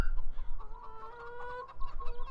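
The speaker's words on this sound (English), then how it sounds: "so chickens, I can't see a rooster anywhere." Farm chickens cluck in a steady, close run of short tonal calls, with a few louder bursts near the end and no voices.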